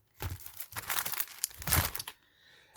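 Plastic wrapping around a flower package being crinkled and pulled open, several close rustling bursts with brief pauses between them, then a quieter tail.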